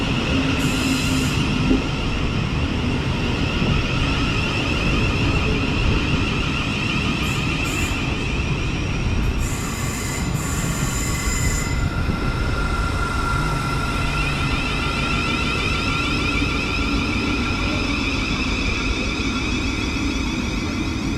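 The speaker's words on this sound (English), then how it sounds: "arriving in now is the 1107 Thameslink service to London Blackfriars" A Thameslink Class 700 electric train pulling into a station on the Caterham branch in Surrey, a loud, continuous rumble and whine of the passing carriages with brief high squeals from the wheels and brakes, close by.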